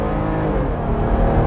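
A Jeep Gladiator Rubicon Launch Edition accelerates, its engine giving a steady, fairly loud low drone that builds slightly as it pulls, heard alone without talk.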